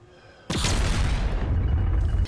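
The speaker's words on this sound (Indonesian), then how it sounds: "Kembar pria yang marah membalas aksi si Brewok dengan mengirim granat lagi ke ruangan si Brewok, membuatnya terdorong." A grenade explodes in an action film, a sudden loud boom hitting after a quiet moment and rolling into a long, dense rumble with debris that holds for nearly two seconds.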